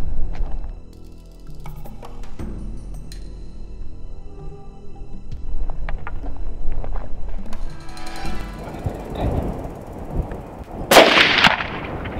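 A loud, sharp rifle shot rings out near the end while hunting springbok on a South African ranch, a single close blast breaking a stretch of quiet outdoor background.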